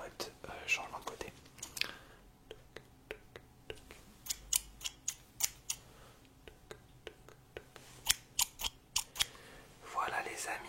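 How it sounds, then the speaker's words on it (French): Sharp scissor snips at a hairdressing-style ASMR session with a small comb, quick close clicks in uneven bursts, some rapid and some spaced, over a soft whispering voice. "plutôt bruit de ciseaux en mode coiffure"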